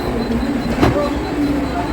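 Busy Dadar railway station in Mumbai, with a local train present: a steady mechanical rumble and crowd hum, a brief clank partway through, and murmuring voices in the background.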